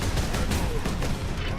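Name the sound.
bolter gunfire in the video game Space Marine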